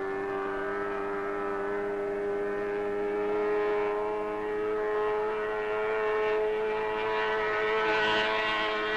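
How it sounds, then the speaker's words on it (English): A powerful racing boat engine roars at a steady, loud pitch for several seconds as the boat speeds over water, a continuous high-speed drone with a slight swell near the end. "The boat flies smoothly over the water."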